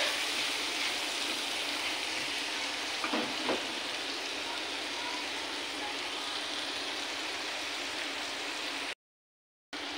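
Pork belly frying in butter with garlic, a steady even sizzle throughout with a couple of faint clinks partway in, ending in a short moment of silence.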